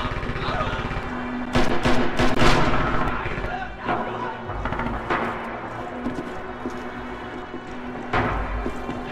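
Grenade explosions thump amid dense gunfire in a Red Orchestra 2 battle, several heavy bangs standing out over continuous rifle and machine-gun shots, with shouting voices mixed in.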